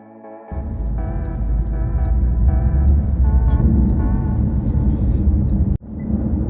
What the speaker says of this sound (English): we'll go and have a little drive, and we'll give you a little bit of what it's like going down the road